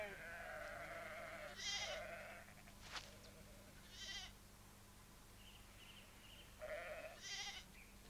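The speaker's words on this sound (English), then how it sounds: "the importance of the lamb's baa becomes more obvious" A lamb bleats several times in short, wavering calls spaced a few seconds apart, soft and nearby against quiet background hum.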